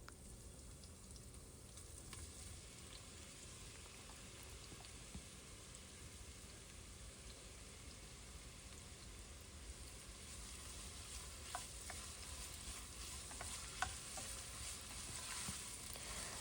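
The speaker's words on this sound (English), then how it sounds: "once the oil is hot, I'm going to add in the finely chopped onions" Finely chopped onions sizzling in hot oil, a continuous even crackle that grows a little busier toward the end, with occasional faint clicks of stirring, no voices.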